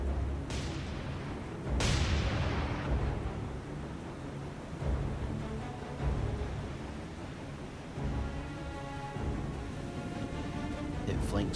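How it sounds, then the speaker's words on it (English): Naval guns firing from warships in the game War on the Sea: two heavy booming shots a moment apart, followed by a rolling rumble over a steady wash of sea and engine noise. "Let's go ahead and turn our massive ships here, so we can get all guns to bear."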